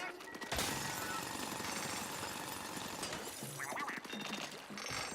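Drilling in the Splatoon Raiders video game on Switch 2: a dense, continuous mechanical grinding rattle that starts abruptly and holds steady and loud, with brighter clattering bursts toward the end.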